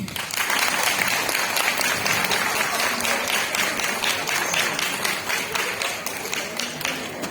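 Sustained audience applause at a motivational success seminar, a dense crowd clapping loudly and steadily for the full stretch without pause.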